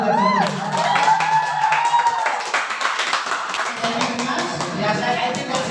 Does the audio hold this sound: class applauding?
yes